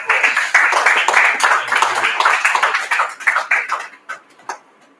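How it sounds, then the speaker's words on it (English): An audience claps for a panel at a startup challenge event, a dense burst of applause that thins into a few scattered claps before fading out. "let's give them a hand of applause."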